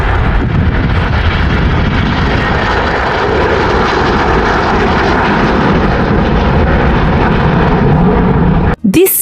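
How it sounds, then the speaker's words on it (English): An aeroplane flies overhead with a steady, loud engine roar and wind rush that holds for about nine seconds before cutting off sharply at the end. "This is an aeroplane. It flies in the sky."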